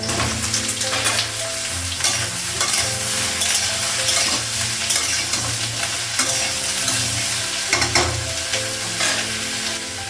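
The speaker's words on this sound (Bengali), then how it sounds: "একটু ভেজে দিব তারপর মশলাগুলো লাগাবো বেগুনটা লাগাবো" Eggplant and potato fry in a hot pan on a gas stove, giving a loud continuous sizzle with stirring scrapes and occasional utensil clinks. No voices.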